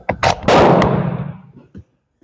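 A No.5 Mk1 Enfield jungle carbine fires 150-grain rounds outdoors, with several loud sharp cracks in quick succession, one large blast and a long rolling echo, then a faint click.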